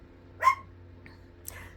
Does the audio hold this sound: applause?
no